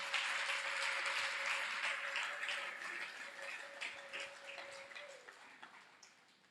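Church congregation applauding during worship, a steady wash of clapping that slowly fades over several seconds, with a faint sustained tone beneath.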